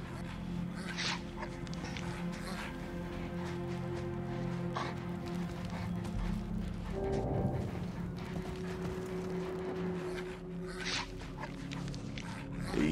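Dog in the Mad Max video game whimpering and making short soft barks close by, over a constant low engine hum, with brief scuffling sounds.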